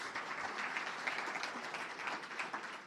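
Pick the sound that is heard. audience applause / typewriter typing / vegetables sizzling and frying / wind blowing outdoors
audience applause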